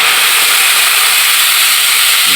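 Chopped kangkong with garlic and chili sizzling in hot frying oil, a loud steady hiss throughout with no talk.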